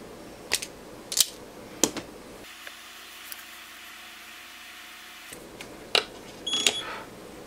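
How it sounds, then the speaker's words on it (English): A wire stripper snips wires during repair of a Keithley 225 current source, several sharp isolated clicks spaced apart, with a quiet stretch between the early and late cuts. "Let's get a wire stripper"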